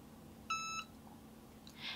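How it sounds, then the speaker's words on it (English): A Cricut EasyPress heat press gives one short electronic beep when done. The tone is clear over a quiet room hum, followed by a faint soft rustle. "your Easy Press is going to beep at you once it's done"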